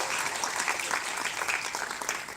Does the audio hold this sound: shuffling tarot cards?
no